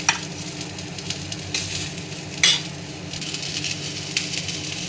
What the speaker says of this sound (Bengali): পেঁয়াজটা ভাজা ভাজা হয়ে গেলে দুটো কাঁচা লঙ্কা